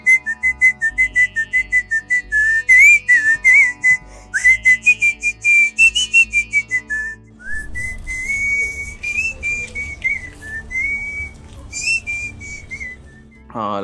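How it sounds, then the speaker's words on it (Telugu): A woman, a singer, whistles a song in clear, loud melodic phrases, first in short rhythmic bursts and then in longer flowing lines, with no talking over it. "మీరు ఆ విజిల్తో ఎలా పాడుతున్నారు అసలు?"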